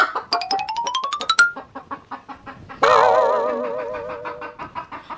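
A hen clucks close by in a rhythmic series of short calls, then breaks into a longer, louder squawking cackle that fades out, with no talk over it.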